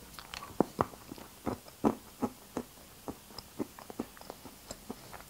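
Someone bites and chews a fruits-des-bois glutamine tablet up close, giving a dozen or so short, crisp crunches in an uneven rhythm with no talking.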